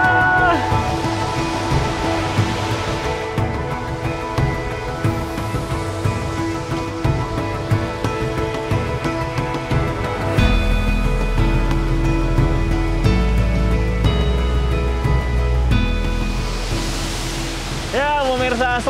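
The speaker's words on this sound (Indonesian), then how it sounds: "selamat datang ya di air terjun Sampuran" The Sampuran waterfall gives a steady, loud rushing roar of falling water throughout, overlaid with tonal music and voices.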